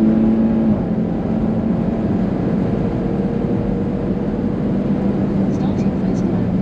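A Subaru BRZ engine drones steadily as the car runs down a race-track straight, a loud continuous roar with a sustained tonal hum that holds an even level throughout.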